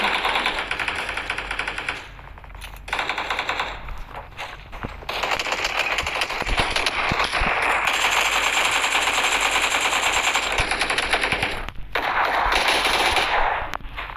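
Sustained machine-gun fire in a video game, loud rapid bursts that run almost without a break across the whole stretch, pausing only briefly a few times.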